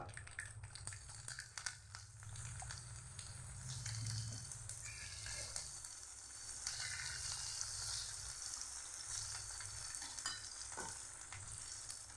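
Chickpeas tempered in hot oil in a pan as a festival offering for Ganesh Navaratri, sizzling steadily and close, with repeated scraping stirs and crinkling clatter throughout, no voices.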